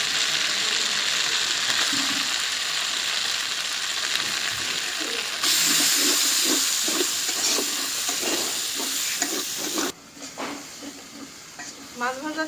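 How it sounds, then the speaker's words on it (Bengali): Onions fry in oil left over from frying fish, with a continuous loud sizzle and repeated scraping and clattering stirs of a spatula in the pan, and the sound drops and turns choppier near the end. "মাছ ভাজা তেলে পেঁয়াজ ভাজতেছি"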